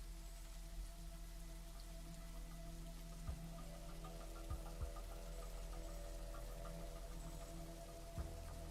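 Rain in The Riftbreaker game's swamp, a faint continuous patter of droplets over a low steady hum, with occasional soft taps, quiet and even throughout.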